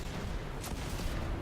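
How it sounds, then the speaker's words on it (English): Scorch Cannon fires in Destiny 2, a loud booming blast with a sharp crack in the middle, over continuous dense battle noise, no speech. "Scorch cannon, baby."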